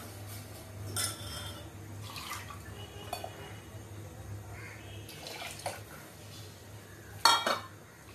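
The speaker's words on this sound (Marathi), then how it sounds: "आपण चण्याचं पीठ घालत आहोत आणि कंटिन्यू ढवळत आहेच आहे" A spoon stirs gram flour paste into yogurt in a pot for Maharashtrian-style kadhi, giving faint scattered scrapes and clinks against the metal, with one sharper clatter near the end over a low kitchen hum.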